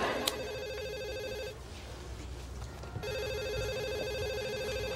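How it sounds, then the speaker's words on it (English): A telephone rings indoors in repeated electronic trills, two bursts separated by a pause, fairly faint and steady with low room noise and no talk. "I never have to answer that phone again."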